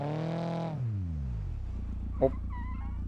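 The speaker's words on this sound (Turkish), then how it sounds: "Hatta egzozumuzu şöyle patlatalım isterseniz." Volkswagen Bora engine in the BeamNG.drive video game revving high and then falling away to a low idle, with one short exhaust pop partway through and faint higher tones after it.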